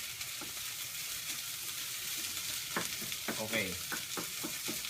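Rice sizzles in a small wok under a steady hiss of frying while a spatula scrapes and stirs in quick irregular strokes, a brief spoken word near the start.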